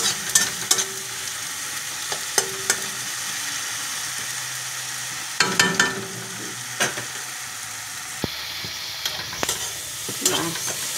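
Ground spice paste with coriander powder and a splash of water frying in oil, a steady close sizzle broken by repeated scraping stirs and clinks of a spatula against the pan.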